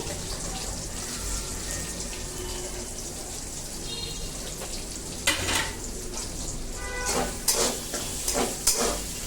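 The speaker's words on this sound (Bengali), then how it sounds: "প্রথমে পেঁয়াজ আর রসুনটা একটু ভেজে নিব।" Chopped onion and garlic sizzle steadily in a hot wok, a dense continuous hiss with a few sharper stirring clatters and spatters toward the end.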